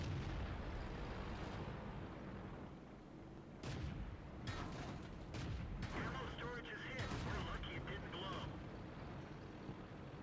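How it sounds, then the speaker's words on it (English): Several heavy booming cannon shots from a Japanese Type 5 Chi-Ri tank in World of Tanks, spaced unevenly over a dense, rumbling battlefield din. "that was another Type 5 Cheery shooting back at me"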